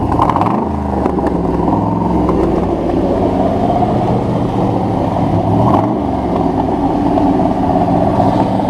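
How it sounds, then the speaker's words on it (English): A 2017 Corvette Z06 runs at a car show, its engine rumbling loudly and steadily, with brief rises in pitch as it revs, against loud background music. "Rev it a little bit."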